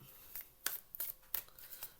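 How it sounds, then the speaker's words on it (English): A deck of tarot cards being shuffled by hand, with several quick riffling bursts and soft flicks spaced through the moment, faint and close, with no talking. "3 hard shuffles, 3 soft shuffles, and 3 cards off the top"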